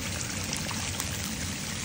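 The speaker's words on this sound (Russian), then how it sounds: "И добавляем воды" Water pours steadily onto washed rice in a pot for Rishtan plov, making a brief, continuous, soft rushing stream.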